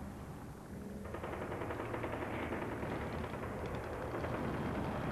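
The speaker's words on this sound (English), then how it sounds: "The infantry provide a high volume of small arms fire to suppress enemy handheld anti-tank systems" Sustained small arms fire from infantry during a combined tank and infantry hasty attack, a dense continuous crackle of rapid gunshots and bursts filling the whole stretch without pause.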